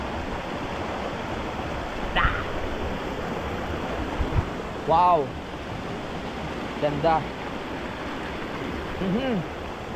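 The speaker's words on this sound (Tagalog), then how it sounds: "nakikinig ako ng tubig na ayan, kung ano yung naririnig nyo, ayan din yung pinakikinggan ko" Flowing river water rushes steadily through the whole stretch as a continuous broadband wash, with a few short exclamations and voices breaking in above it now and then.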